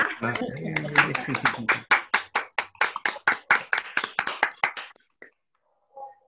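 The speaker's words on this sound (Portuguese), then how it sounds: "eu acho que merecia uma salva de palmas" Clapping from a small group in an acupuncture and moxibustion class, following a few words of speech: a steady, evenly spaced run of sharp hand claps for about four seconds, then stopping into near silence.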